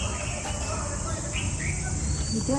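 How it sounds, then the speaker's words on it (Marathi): Outdoors near Lonavala, a few short bird chirps ring out over a steady hum of insects and background noise, with faint voices nearby. "काय पक्ष्यांचा आवाज येतो."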